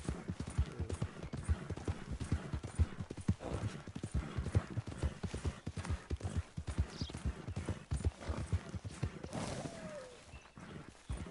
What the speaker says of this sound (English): I'm drifting with a horse.